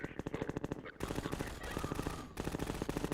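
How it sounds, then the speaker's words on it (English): Rapid bursts of SMG fire in a video game, aimed at antlions, crackling in quick repeated volleys with a brief pause near one second and another near two and a half seconds. "I'm really shooting antlions."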